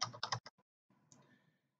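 A short, faint run of computer keyboard keystrokes, a few quick clicks in a cluster followed by softer tapping, close and alone.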